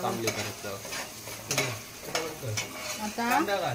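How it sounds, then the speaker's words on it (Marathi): Chopped onion sautés in a pan for pav bhaji, a close sizzle broken by rhythmic spatula stirs and clanks against the metal, with brief traces of a voice in the background. "कांदा घालते, कांदा परतावायचं।"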